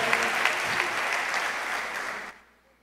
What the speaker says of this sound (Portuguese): Você pode aplaudir a Jesus, querido